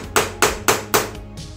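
A hammer strikes a centre punch on a steel part, angled blows to shift a centre mark while removing a broken pin from a blind hole: four sharp, evenly spaced metallic taps close up, then a softer fifth.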